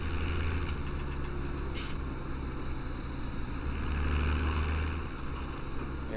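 Tractor engine idling in Farming Simulator 17, a steady low droning rumble that holds at a constant level throughout with no voices over it.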